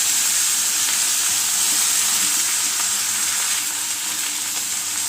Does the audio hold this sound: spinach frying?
yes